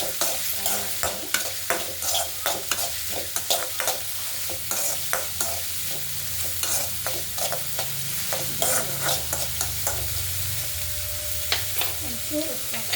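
Garlic frying in a pan for an okra palya, a steady close sizzle broken by frequent sharp scraping and stirring clicks of a spatula against the pan.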